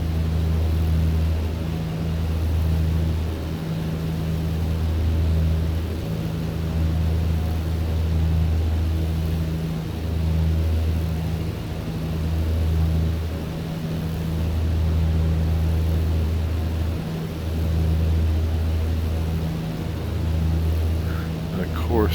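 Steady drone of a Britten-Norman Islander propeller plane climbing in Microsoft Flight Simulator, a constant engine hum with a low pulsing throb and faint broadband cabin noise throughout.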